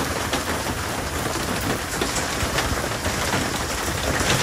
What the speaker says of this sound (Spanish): Miren, está lloviendo muy bonito.